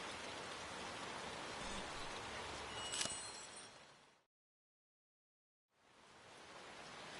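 Steady rain hisses in the video game Lushfoil Photography Sim at East Maddon Park, Northern England, a soft even downpour with a brief bright tick near the middle, then the sound drops to silence before the rain returns.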